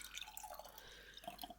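Oil and vinegar pouring back into a glass jar during a craft project, a quiet, uneven trickle with scattered drips and splashes, close by and alone.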